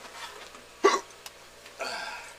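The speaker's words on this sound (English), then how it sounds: "Give me the hiccups because I ate too fast." One sharp hiccup stands out in a quiet room, followed by a few faint breathy sounds.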